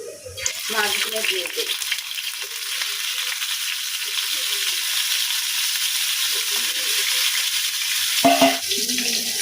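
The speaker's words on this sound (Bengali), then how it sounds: "এখানে মূলার জন্য না মশলা কষায় নিচ্ছি" Spice masala frying in a pan for a tangra fish curry with radish: a steady, close hiss of sizzling throughout, with brief stirring scrapes near the start and end, and no talking.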